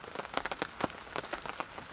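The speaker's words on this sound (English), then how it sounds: "Not much else to do sitting in the rain." Rain patters steadily on a tarp over a campsite, a dense close crackle of drops with irregular louder hits throughout.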